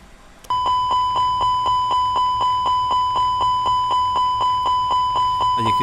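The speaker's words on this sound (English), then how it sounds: "So I can demonstrate the master warning just now by initiating a fire test." Fire test master warning alarm in an Airbus A320 cockpit in the FSX flight simulator, a loud electronic chime repeating rapidly at an even rhythm about four times a second, clear and steady with no talking.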